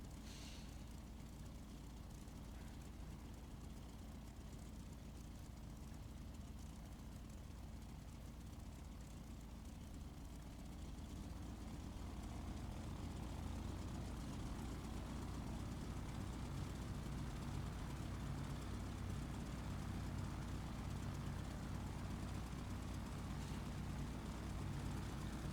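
F4U Corsair taxiing in the DCS flight sim, a low, steady propeller engine drone that swells slightly halfway through and holds as a constant rumble, with no talk.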